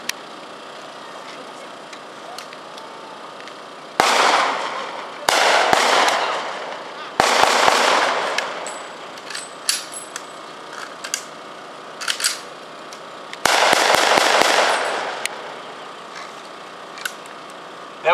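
M14 rifles firing on semi-automatic in a military demonstration, several sharp loud reports in separate bursts of single shots with echoing tails and quiet gaps between.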